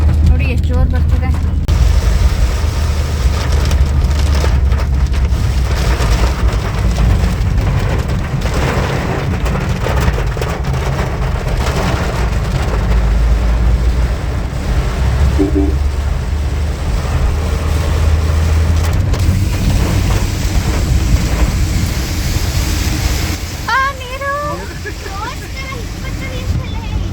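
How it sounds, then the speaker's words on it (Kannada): Heavy rain pours steadily during a trip to Mysore, a dense loud wash that runs the whole way through while people talk over it. "ಇವಾಗ ಸದ್ಯಕ್ಕೆ ಮಳೆ ಬಂತು, ತಣ್ಣಗೆ ಆಗ್ತಾ ಇದೆ. ನೋಡಿ ಎಷ್ಟು ಜೋರು ಬರ್ತಿದೆ."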